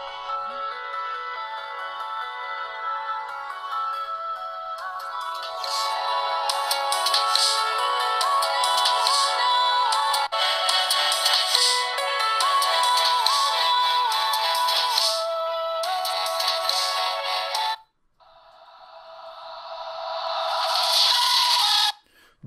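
A ringtone melody plays loud and alone through the loudspeaker of a Samsung Galaxy Note 3, running about 22 seconds with a steady tune, a brief drop near the end and then a final bright phrase.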